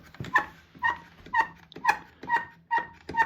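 A dog whimpers and squeaks in a series of about seven short, evenly spaced high-pitched cries near a WORKPRO bar clamp being used to lift a bucket, with no talking.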